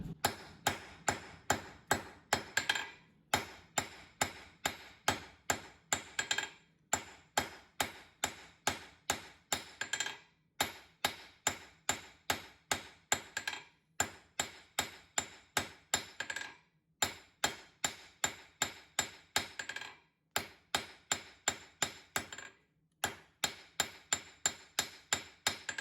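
Hot steel is hammered on an anvil by a blacksmith tapering a forged drift, ringing metallic blows in quick bursts of about ten strikes each, separated by short pauses, close and sharp with no speech.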